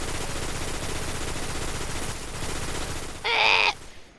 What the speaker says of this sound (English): here's a primary version of the machine gun